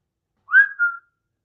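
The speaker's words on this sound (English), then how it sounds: "Slowly, he lets out a whistle" A man whistles once to catch a woman's attention, a single clear rising-then-falling tone lasting about half a second, close and alone against silence.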